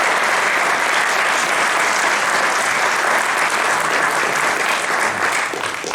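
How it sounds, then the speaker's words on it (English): Loud, dense audience applause at a Yud Shevat farbrengen in Los Angeles, a large crowd clapping steadily and close for several seconds before tapering slightly at the end. "please give a round of applause to people who worked very hard to make tonight's Farbrengen"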